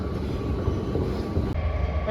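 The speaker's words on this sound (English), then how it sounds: "Welcome to the Metro," Washington Metro subway train rumbling along, a steady low roar with faint rail clatter heard close by from inside.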